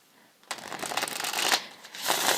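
Tarot cards riffle and shuffle in quick rustling bursts, close and fairly loud, with a short quiet start before the shuffling begins; a 78-card tarot deck.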